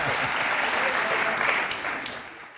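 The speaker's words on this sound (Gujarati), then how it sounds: "જો એમની ઈચ્છા હોય તાળીઓ વગાડવાની તો" Studio audience applause from a television courtroom-style talk show, a dense steady wash of clapping that stays loud throughout and tapers slightly near the end.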